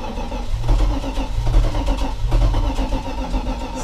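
A 1984 Dodge Ram engine cranks and struggles to catch, giving a loud, steady mechanical drone with three heavier surging pulses about a second apart, close by, with no talk.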